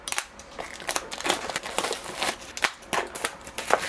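Packaging for a Kospet T3 Ultra or M3 Ultra rugged smartwatch crinkles and rustles in irregular crisp bursts during an unboxing, close and fairly loud, with sharp snaps and no talk.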